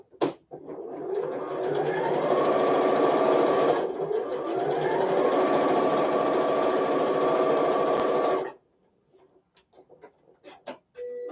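A sewing machine stitches nested quilt seams on a block, a loud close whirring run that speeds up in two smooth ramps with a brief dip between, then stops, leaving faint clicks and handling noises.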